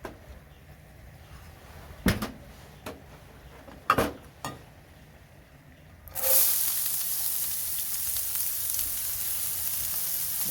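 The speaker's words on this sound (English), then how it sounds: "So once the spices are done, we're going to add the onions," Onions hit a hot pan of toasted spices for a Chicken Do Pyaza curry, setting off a loud, steady sizzle midway after a few sharp clinks of utensils against cookware.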